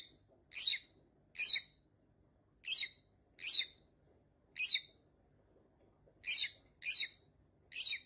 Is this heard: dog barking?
no